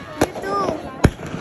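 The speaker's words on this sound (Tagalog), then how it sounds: "Fireworks everywhere." New Year fireworks bursting nearby, two sharp loud bangs about a second apart with a faint whistling rise between them.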